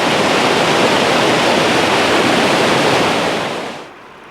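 River water rushes in a loud, steady roar of broadband noise close by, then abruptly drops in volume near the end.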